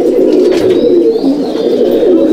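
Pigeons coo steadily in a loft of Madrasi breed birds, a dense overlapping murmur of low throaty calls close by, continuous throughout with no talk.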